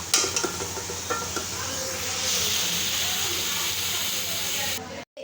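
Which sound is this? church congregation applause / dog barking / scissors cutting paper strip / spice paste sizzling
spice paste sizzling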